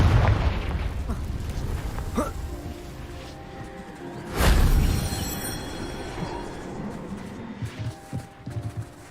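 A fiery Confringo spell blast in Hogwarts Legacy erupts as a deep boom midway, preceded by scattered pops and followed by crackling debris, amid game sounds.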